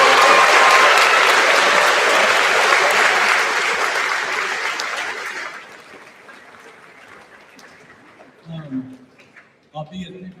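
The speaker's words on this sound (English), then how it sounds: "let's give your parents a round of applause" A graduation crowd applauds the graduates' parents, dense loud clapping from a large audience that swells at the start and gradually fades out, followed by a few scattered cheers and a voice near the end.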